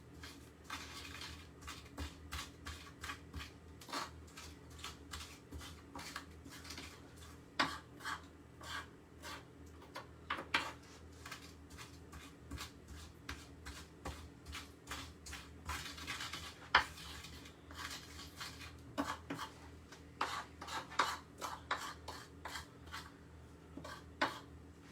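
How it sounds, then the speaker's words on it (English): The back of a spoon grinds herbs and coarse salt into a paste in a bowl for a honey herb roast chicken salad, with soft, irregular scraping and tapping strokes close up, quiet and without talk. "I'm going to use the back of a spoon and kind of just work this into a paste"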